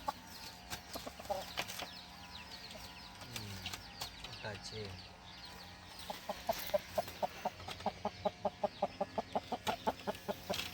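Chickens cluck and squawk nearby, with a busy run of rapid, rhythmic clucks building toward the end over a steady low hum.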